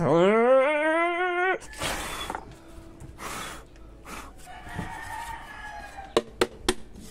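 A rooster crows loudly once, a rising, strained call, followed by scattered clucks and a few sharp knocks.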